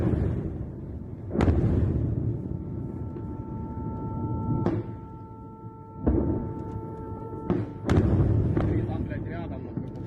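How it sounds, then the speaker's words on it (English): Missile strikes hitting a dam's bridge in the Ukraine war, distant heavy booms arriving at irregular intervals, each a sharp crack trailing into a rolling rumble over a constant low hum. "The explosions are still coming in."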